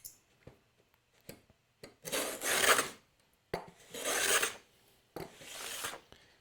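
A hand saw cuts a sliding dovetail in wood, a few light starting taps followed by three long, rasping strokes, close and clear with no talking.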